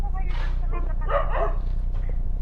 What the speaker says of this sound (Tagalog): Ingay ng aso eh.